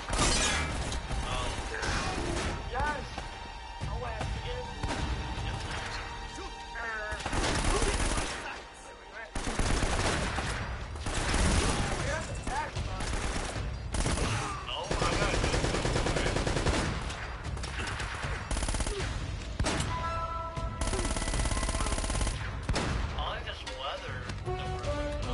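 Shotgun and other gunfire in the Uncharted video game, loud rapid blasts and bursts with shattering debris in dense, nearly continuous bursts, mixed under occasional talk.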